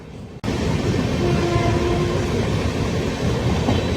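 Tirupati to Hazrat Nizamuddin Rajdhani Express running nonstop between Kacheguda and Kazipet: after a brief quieter moment, a loud, continuous rumbling roar of the moving train fills the rest, heard from on board with no voices.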